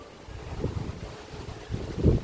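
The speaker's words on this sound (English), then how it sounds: "I don't know how good it'll be because of the wind" Strong wind buffets a microphone outdoors during a windstorm in Spokane, making a low, rumbling roar that surges and gusts, loudest near the end, with no speech.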